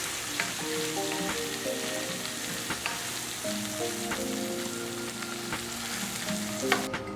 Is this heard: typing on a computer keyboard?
no